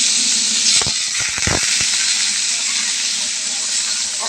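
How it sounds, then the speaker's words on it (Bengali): Round-cut potato slices fry in hot oil with a steady, loud hiss, broken by a cluster of sharp crackles and pops early on before settling back into even sizzling. "আলুটা ভাজা করবার জন্য আলুটা তেলের মধ্যে দিয়ে দিয়েছি"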